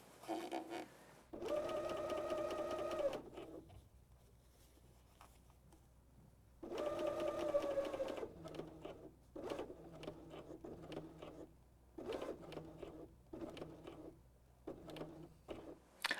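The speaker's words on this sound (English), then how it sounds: "I sew 3 or 4 stitches over the first stitches, depending on my project." A BERNINA L 660 overlocker stitches a decorative rolled hem in two loud, steady bursts of motor whirring, each about two seconds long, separated by quieter fabric handling and small clicks.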